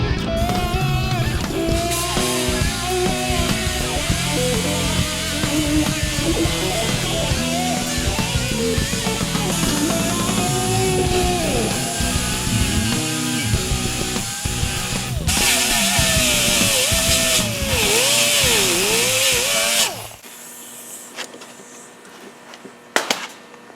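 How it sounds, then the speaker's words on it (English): Power grinder cutting V-grooves into cracks in a fiberglass motorcycle saddlebag, a loud continuous harsh whine with pitch dips as the tool loads and bites, running steadily before cutting off near the end. "We're going to grind those out."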